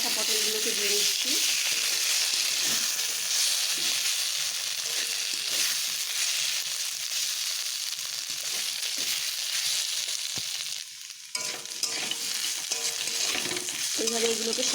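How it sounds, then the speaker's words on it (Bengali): Mola fish frying in hot oil together with pre-fried pointed gourd pieces, a steady loud sizzle with stirring scrapes throughout, briefly dipping near the end before resuming. "এবার আমি এখানে ভেজে রাখা পটলগুলোকে দিয়ে দিচ্ছি।"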